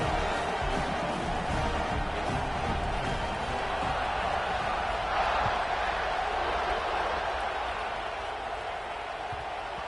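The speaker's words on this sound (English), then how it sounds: "this crowd is feeling themselves after that last drive." Video game stadium crowd from College Football 26 during a kickoff after a touchdown drive, a steady, dense roar of distant cheering that holds throughout and swells slightly midway, with commentary heard over it.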